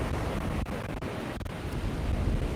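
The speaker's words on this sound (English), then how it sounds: "I know today it's windy, so it's not doing me any favors." Wind blowing hard across a beach at sunrise, a loud continuous rush buffeting the microphone with crashing surf mixed in and no voices.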